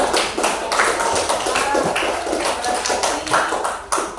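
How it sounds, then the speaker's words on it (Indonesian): Hands clapping in a classroom, a dense run of sharp claps from a group of pupils, steady and fairly close, with faint voices mixed in. "Oke, tepuk tangan dulu Sasa."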